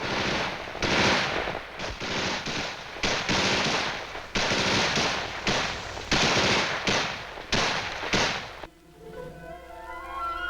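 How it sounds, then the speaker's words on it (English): Mortar blasts and harassing small-arms fire from Viet Cong guerrillas in Vietnam combat, heard as loud, ragged bursts of rapid shots and thuds repeating steadily for most of the span, then giving way to sustained musical tones near the end. "the Viet Cong hit them with mortars and harassing small arms fire"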